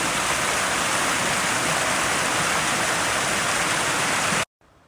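Steady, rushing water of North Willow Creek, a Colorado mountain creek, fills the scene with a constant loud hiss and burble, cutting off abruptly near the end.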